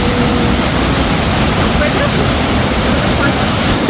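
A waterfall about 20 metres high in the Carpathian mountains roars steadily and loudly from close by, a dense unbroken rush of falling water.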